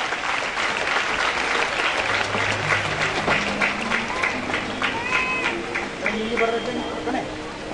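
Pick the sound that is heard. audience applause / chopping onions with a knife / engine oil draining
audience applause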